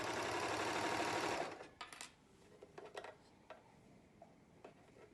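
A serger stitches along the edge of an infinity scarf held with wonder clips, a dense steady whir for about a second and a half, then stopping, followed by a few light clicks and handling taps.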